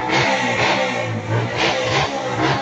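A motorcycle engine revs hard in bursts, with the throttle rising and falling over a steady mid-pitched roar and some mechanical clatter, loud and close throughout.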